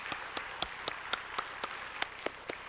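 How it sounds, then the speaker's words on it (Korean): A church congregation at an early-morning prayer service claps, heard as faint, distant, evenly spaced handclaps in a steady rhythm, about four per second, with no talking. "뜨거운 박수로 감사하십시다."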